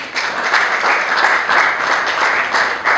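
Dense applause with a few cheers rises from an audience at a book launch, many hands clapping steadily and close throughout.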